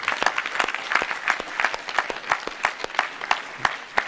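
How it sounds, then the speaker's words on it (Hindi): An audience at a Vedic yajna discourse claps in unison for a child named Anand, making a loud, even, rhythmic beat of about three claps per second that carries on throughout. "आनंद के लिए तो जोरदार ताली बजाओ"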